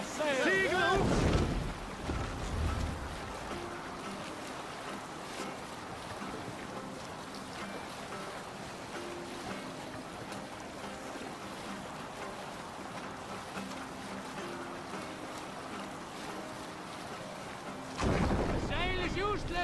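Viking longship under sail at sea in Assassin's Creed Valhalla: waves and wind wash steadily around the hull, with louder surges of water at the start and the end, and a voice speaking over it.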